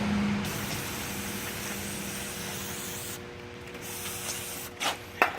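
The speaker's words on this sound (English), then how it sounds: "we've got everything sprayed down pretty well" Steady close hiss of an aerosol spray coating wheel bearing parts during a front bearing service, continuing for several seconds, then a few short clicks and taps.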